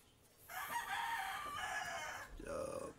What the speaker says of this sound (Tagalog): maraming manok, maingay